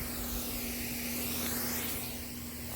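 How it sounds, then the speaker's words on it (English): A steady hiss of water spraying from a sprinkler, continuous and fairly faint, with a low constant hum beneath. "it's actually spraying perfectly the way I wanted it"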